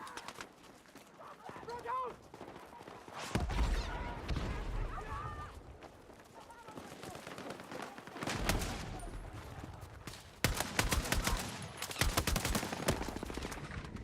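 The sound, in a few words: gunfire from a weapon in video game Battlefield 6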